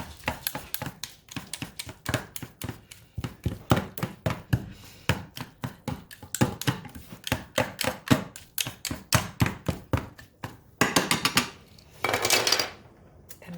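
Cooked buffalo chicken shredded with utensils, a rapid series of close, sharp metal clinks and scrapes against a pot or dish, irregular bursts with brief pauses, no talk.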